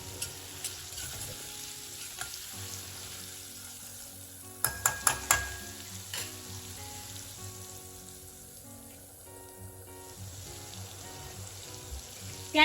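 Finely chopped onion cooking in a pan for a Rajasthani dal, with a steady low sizzle and a few sharp stirring clatters partway through, near and alone without talk.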